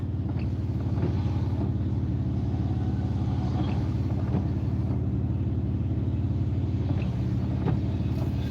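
A car on a morning drive gives a steady, low road and engine rumble from inside the cabin, constant and unbroken throughout, with no speech.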